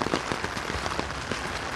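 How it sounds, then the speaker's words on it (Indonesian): Steady rain pours down over a flooded street in Korea, a dense, constant hiss with scattered close drops spattering on surfaces, loud and continuous with no talking. "Hujan-hujan juga."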